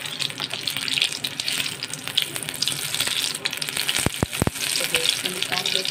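Paneer pakora fritters frying in hot oil, a steady dense sizzle that continues throughout, close and fairly loud, with a few brief knocks of a utensil near the end.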